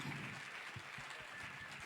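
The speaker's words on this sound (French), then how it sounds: "Je vais vous demander de l'acclamer fortement." Steady applause and cheering from an audience at a car award ceremony in Côte d'Ivoire, a continuous wash of clapping heard at moderate distance without pause.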